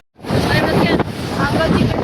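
Ocean waves crash and splash over a small boat at sea, a steady roaring wash of water and wind buffeting the microphone, loud and close with brief surges.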